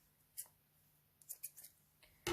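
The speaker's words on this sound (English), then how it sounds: "then I'm just going to cut my yarn" Scissors snipping through crochet yarn, a few faint, brief clicks and snips spread unevenly over a quiet background, very close.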